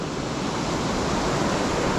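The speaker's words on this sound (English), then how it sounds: "so this is HETHPOOL LINN waterfall" Hethpool Linn waterfall in a river gorge roars as a continuous, loud rushing wash of water, steady and unbroken with no talk over it.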